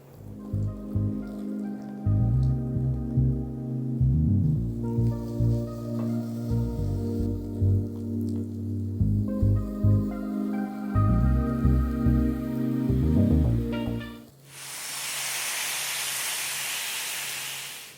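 Protein batter hitting a hot pan: after a long stretch of music, a loud, steady sizzling hiss begins abruptly and carries on alone.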